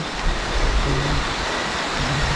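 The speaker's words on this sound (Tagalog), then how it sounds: "Malakas na yung ulan." Heavy rain pours outdoors on a rainy climb, a steady, dense hiss of falling water with no voices and no breaks across the short stretch.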